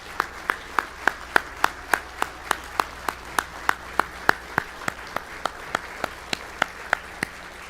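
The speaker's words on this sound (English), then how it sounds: "I think you all deserve a round of applause and one more round of recognition" An awards ceremony audience claps in steady unison for award winners, about two dozen crisp, evenly spaced claps keeping a brisk rhythm with no talk over them.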